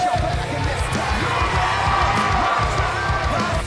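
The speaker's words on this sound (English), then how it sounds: "We've got an animated crowd here tonight" Arena crowd in the wrestling game WWE 2K19 cheering at an Orlando show, a steady loud roar with rhythmic chanting and shouts throughout, no break in the noise.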